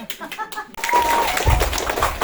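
A few words of speech give way to an audience at a children's stage show breaking into steady, sustained applause that stays fairly loud until the end.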